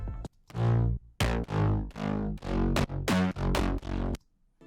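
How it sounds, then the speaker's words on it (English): Gritty, distorted synth bass plays a bouncing sequence of punchy notes, jumping between octaves, with short gaps between them. "this first bass layer, which sounds like this."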